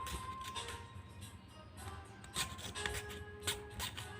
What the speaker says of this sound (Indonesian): pakai kikir ini ya, dari kikir kecil ini kita lebarkan